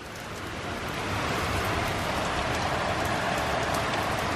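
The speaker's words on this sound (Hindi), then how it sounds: "बारिश इतनी तेज है इस तरफ की, ये देखो मेरे शीशे में कैसे आ रही है, पूरे शीशे में लग लग के चल रही है बारिश" Heavy monsoon rain in Dehradun drumming hard on window glass, a dense loud continuous hiss that swells in the first second and then holds steady, with no talk.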